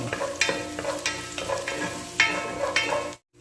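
Garlic sautéing in a pan for chicken tinola, heard as a steady close sizzle broken by regular scraping strokes of a spatula about every half second, stopping abruptly at the end, with nobody speaking.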